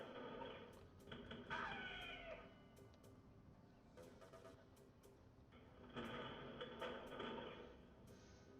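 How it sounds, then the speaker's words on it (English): A pet cat meows from downstairs in a house, faint and distant, a few drawn-out cries separated by quiet stretches. "I'm hearing my cat's meowing from all the way downstairs"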